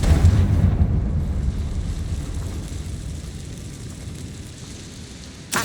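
A Confringo blasting spell explosion in Hogwarts Legacy, starting as a loud, deep rumbling blast that slowly fades over several seconds. A sharp burst cuts in at the very end.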